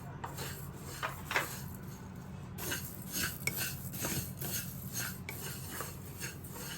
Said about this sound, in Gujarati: હવે એમાં જીરું નાખો,